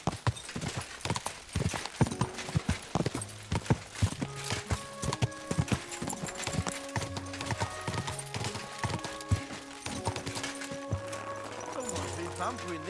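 Horse hooves clip-clop steadily in the video game Kingdom Come Deliverance 2, a quick rhythmic gait over game music, with voices talking at times.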